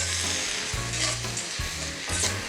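Shredded precooked chicken and Asian vegetables for pad thai stir-fried in a hot pan, a bright sizzle broken by a few quick tossing strokes, close up and without voices.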